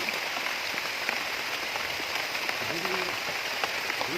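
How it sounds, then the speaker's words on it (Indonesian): Steady rain falls outdoors, a dense, even hiss of drops hitting surfaces with brief patters, continuous and fairly loud throughout, with a faint voice briefly in the background. "Hujan mas bro."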